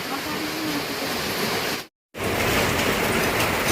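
Steady rain pours down in a dense, continuous hiss, briefly cut off by a moment of silence before resuming just as heavily.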